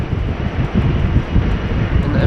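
An Embraer 145 jet takes off at Amsterdam Schiphol on a wet, windy day, a loud steady engine roar with heavy low rumble throughout, with a voice in the background.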